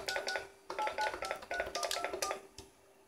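A rapid run of DTMF touch-tone beeps is dialed on a POTS telephone line, about a dozen short tones in quick, uneven succession, clear and alone with no voices.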